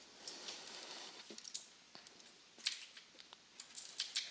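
Rapid typing on a computer keyboard, a steady run of quiet, irregular key clicks with a few sharper taps, close and alone with no voice.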